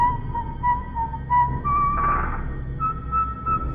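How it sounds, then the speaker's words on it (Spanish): Faint, eerie whistling drifting in the distance as a horror story sound effect, a thin wavering tone that rises and falls in short phrases over a low, dark ambient rumble. "creyó escuchar un leve silbido en la distancia."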